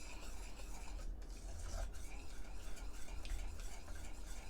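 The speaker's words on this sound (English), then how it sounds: "stir this in real good till we get all that butter melted" Steady stirring in a pan as butter melts for a banana cream pie filling with vanilla, a continuous scraping, sizzling texture close by with no talk.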